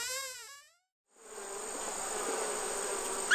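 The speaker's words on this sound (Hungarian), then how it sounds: "a 7. szobában méhekkel találkozott a kisasszony, akik jól meg is csipkedték" Steady, dense insect buzz of bees in a Hungarian fairy tale, starting after a short silence and holding at an even, fairly close level; a brief voiced sound precedes the quiet gap.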